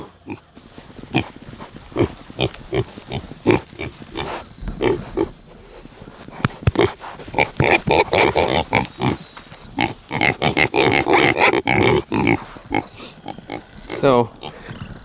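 Pigs grunt and snort repeatedly among the flowers of an overgrown garden, close and fairly loud, with a person speaking over the animals throughout.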